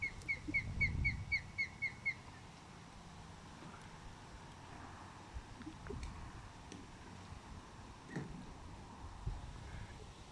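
A bird perched on a nest atop electrical wires sings a quick run of repeated bright whistled notes, then falls quiet. Soft distant traffic and low wind fill the rest.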